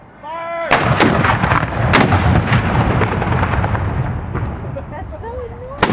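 A cannon fires at the Hampton Blackbeard Festival, a single loud, close boom followed by a long rumbling echo, with voices audible in the background before and after.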